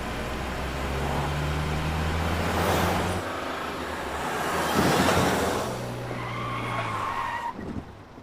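A car speeds along with its tires skidding loudly, a sustained screech that swells twice over an engine drone for about eight seconds before cutting off in a drama scene.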